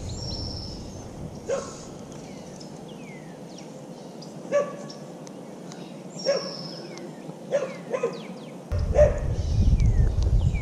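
A dog barks a few times at a distance beside a canal during a fishing outing, with short separated calls over outdoor ambience and wind noise rising toward the end.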